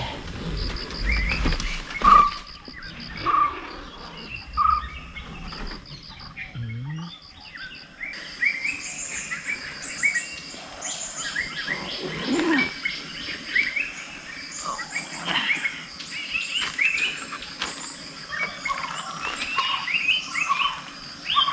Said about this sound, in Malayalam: പുറത്ത് നല്ല കുക്കുണ്ടനും കിളികളൊക്കെ നല്ല രീതിയിൽ സൗണ്ട് ഉണ്ടാക്കുന്നുണ്ട്